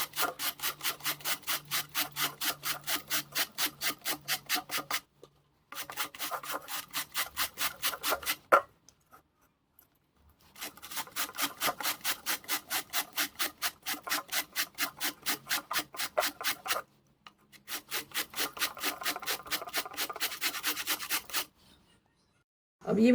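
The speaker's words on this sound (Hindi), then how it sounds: "अब मैं गाजर को स्लोली ग्राइंड करना स्टार्ट करती हूँ।" Carrots are grated by hand, giving quick rhythmic scraping strokes in long runs broken by short silent pauses, close but fairly soft.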